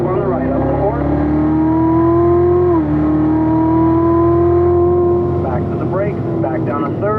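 A race car on a track braking and downshifting into third gear, its engine a loud steady drone that dips and then settles at a lower pitch, with a voice talking over it.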